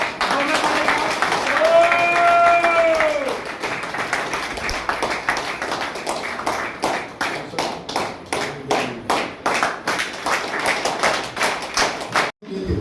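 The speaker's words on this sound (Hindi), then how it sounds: "एक बार जोरदार तालियां दिखाओ।" Loud audience applause with rhythmic clapping at a seminar event in Maharashtra, starting beneath music and an amplified voice, then settling into steady collective hand claps that fade near the end.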